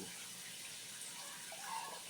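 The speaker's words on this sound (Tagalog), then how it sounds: "Tapos, kumutay ng konting tubig." A small splash of water is poured into a cup of Bactidol mouthwash, a soft, faint trickle over quiet room tone.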